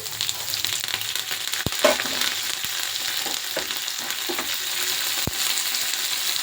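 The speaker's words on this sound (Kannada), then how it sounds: "ಇದೆಲ್ಲ ಚೆನ್ನಾಗಿ ಫ್ರೈ ಮಾಡೋಣ" Chopped green and dried red chilies, onion and garlic frying in hot oil for a tempering in an Andhra-style spinach dal, a steady close sizzle with a few stirring clicks and scrapes throughout.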